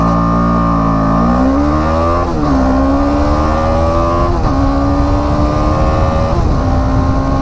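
A BMW G310GS single-cylinder motorcycle accelerates hard from a standstill toward 100 km/h, engine note climbing steadily with brief dips at each upshift through the gears, loud and close with no talk.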